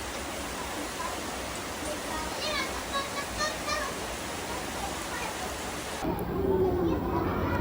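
Steady rain pours down as a dense, constant hiss, with faint voices in the background and a shift in the sound near the end.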